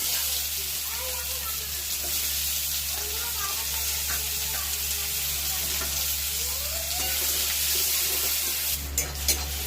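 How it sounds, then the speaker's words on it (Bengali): Nigella seeds and onion frying in hot oil for a fish curry, a steady close sizzle with occasional stirring clinks and a short burst of louder crackle near the end. "প্রথমে ফোড়ন দিয়ে দেবো কালো জিরে, এরপর দিয়ে দেবো পেঁয়াজ"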